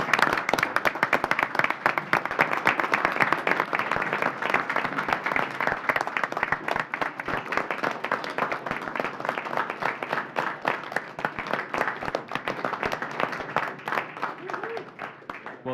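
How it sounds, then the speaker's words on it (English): Audience at a county board of commissioners meeting clapping together, a dense, steady round of applause lasting about fifteen seconds, moderately close and fading slightly toward the end. "let's give them all a round of applause"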